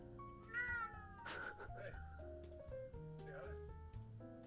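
A pet cat meows several times in drawn-out, wavering calls over a background of music and talking, the meows fairly clear but not loud.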